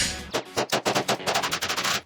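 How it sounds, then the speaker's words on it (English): A Glock 49 pistol fitted in a Recover Tactical brace fires a fast string of about fifteen close, loud shots in quick succession with no talking. "let's send 18 rounds and function test this thing"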